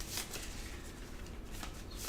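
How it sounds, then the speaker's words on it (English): Playing cards riffle and shuffle by hand at a tabletop game, a close, steady papery flutter that runs for about two seconds with no talking. "So I'm just going to kind of shuffle up"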